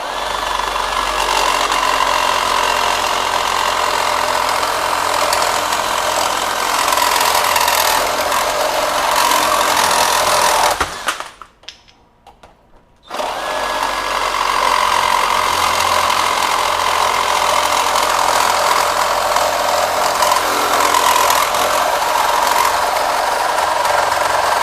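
A Flex FX2241 24V brushless one-handed reciprocating saw with a steel blade cuts 1x1 steel square tubing, 1/8 inch thick, a loud continuous buzzing drone that halts for about two seconds midway, then resumes.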